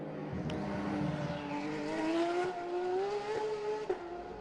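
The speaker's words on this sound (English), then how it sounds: "here the Porsche heading up the hill on a circuit" A Porsche GT race car climbs a hill on the Macau street circuit during GT World Cup practice on a half-wet track, its engine note rising steadily through the gears, loud and alone.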